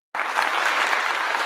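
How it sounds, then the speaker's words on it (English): An audience breaks into sustained applause at a Front Line Blacc News show, steady, dense clapping that starts abruptly and holds at full level throughout, with no talk over it. "Give him a little clap."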